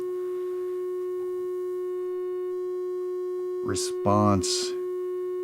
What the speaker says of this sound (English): Now, if I plug in a steady oscillator